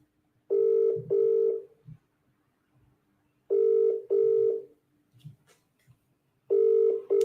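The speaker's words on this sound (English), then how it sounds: "Tell Matisse to pick up his phone" Phone call ringing tone: a clear electronic ringback repeating in paired bursts roughly every three seconds, fairly quiet, with short gaps of near silence between the pairs.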